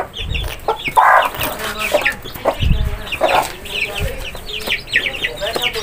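A native hen clucks close by in short repeated bursts, with other chicken chatter and faint background noise around it.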